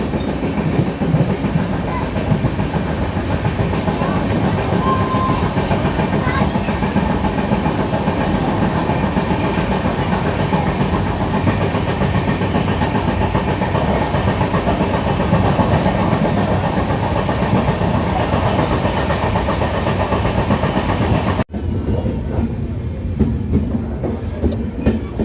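Jammu Mail 14033 rolls along the Delhi–Katra line and gathers speed, its wheels pounding in a steady rumbling clatter heard from on board, until a sudden cut to a quieter stretch of rolling noise.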